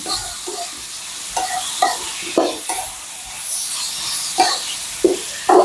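Meat stir-frying in a pan for Thai pad kra pao, a continuous sizzle broken by repeated sharp chops and scrapes of a utensil against the pan, close and clear, no one speaking.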